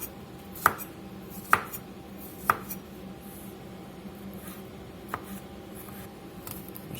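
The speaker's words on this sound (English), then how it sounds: "we're just going to chop, chop, chop, chop and keep chopping until we end up with a paste" A knife chops anchovies into a paste on a board, giving a few sparse, sharp taps that are fairly quiet over a faint room background.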